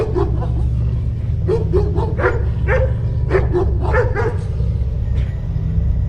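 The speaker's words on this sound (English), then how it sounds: "I heard Tommy barking frantically from the spot where the creature had disappeared" A dog barks in rapid, repeated bursts over a constant low rumble, sounding fairly close, with no talking.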